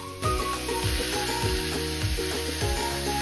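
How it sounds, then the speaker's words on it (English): Marinated bulgogi beef sizzles in a pan over medium-high heat, a close, constant frying hiss that carries across the whole short stretch beneath light background music. "Heat a pan over medium-high heat and add a marinated beef mixture."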